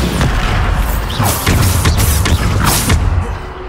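Bombarda blasting spells in Hogwarts Legacy: a dense run of loud booming blasts and crashing impacts, several bursts one after another over a constant rumbling game-combat din.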